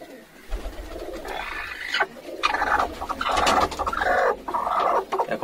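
A hen sitting in a pigeon loft makes a series of close, uneven clucks and low throaty calls, with some cooing of pigeons nearby.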